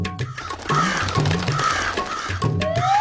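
Crows perched on a rooftop ledge give repeated hoarse caws, several overlapping calls close and fairly loud in quick succession.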